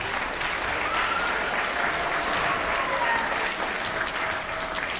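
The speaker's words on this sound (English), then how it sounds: "So please give yourselves a round of applause and thanks." An audience at a school orchestra spring concert claps steadily and loudly throughout, a dense wash of applause from a crowd filling the hall with no break.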